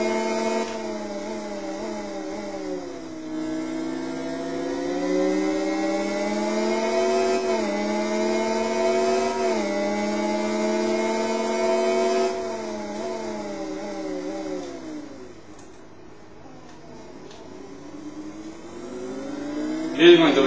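A motorcycle engine in the Riding Spirits 2 racing game drones with steady harmonic revving that rises and falls through gear changes, dips near the end and then surges loudly.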